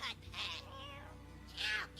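A house cat meowing twice, drawn-out plaintive calls standing out over a quiet background hum with faint game sounds.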